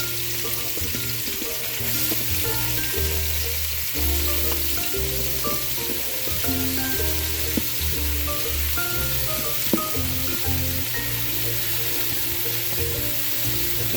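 Mushrooms frying in a pan for pachamba, a steady sizzle running throughout with occasional stirring scrapes, fairly close and continuous with no talking.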